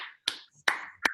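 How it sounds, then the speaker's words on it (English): Three sharp, separate claps from a round of applause in an online class over video call, loud and close, with short gaps between them and no talking. "Big round of applause"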